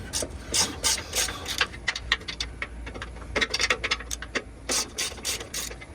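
Ratchet wrench loosening bracket bolts on a Toyota Sequoia or Tundra, sounding as rapid bursts of close, crisp clicking with brief pauses between strokes.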